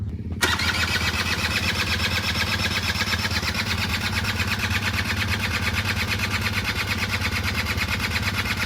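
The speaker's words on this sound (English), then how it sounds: "Now, starting the Suzuki LT80." Suzuki LT80 ATV engine catching after a short start, then running steadily near and loud with a buzzy, rapid small-engine putter that holds through the rest.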